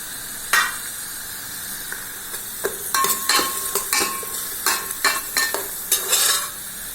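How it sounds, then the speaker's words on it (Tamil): Onion sautéing in a pan, a continuous sizzle broken by repeated close scraping and stirring clatters, loud and without any talk. "வெங்காயம் நல்லா வதங்கட்டும்"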